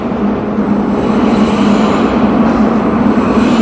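Sofia metro train rumbling steadily through an underground station, a continuous loud low roar of wheels and motors with a sustained hum, no voices.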